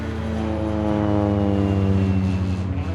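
Small propeller airplane engine passing overhead, a steady droning buzz with layered harmonics that holds loud and close throughout, with no voices.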